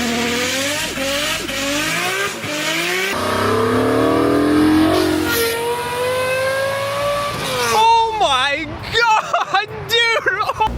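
A hot-rodded GM Atlas five-cylinder engine revs up loudly several times, its pitch climbing in repeated sweeps, followed by choppier, faster blips of throttle.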